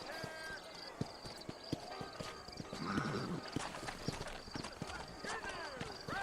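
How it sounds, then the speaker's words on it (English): Horse riding in the Red Dead Redemption video game: steady hoof clip-clops with a whinny partway through, under characters talking. "Mount your horse."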